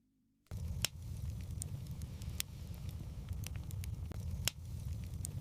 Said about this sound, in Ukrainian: Ви прислухаєтеся до голосу печі.